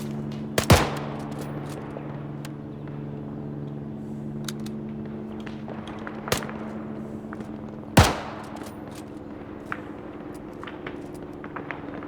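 Gunfire in the military video game ArmA, a few sharp separate shots over a steady low droning hum, some loud and close, others fainter, with no talk.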